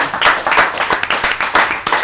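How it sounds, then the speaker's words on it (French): An audience in a hall applauds thanked guests and technicians at a dinner event in Chambéry, loud rhythmic hand claps in quick repeated bursts, close and continuous. "On peut l'applaudir, y compris tous les techniciens qui sont dans la salle."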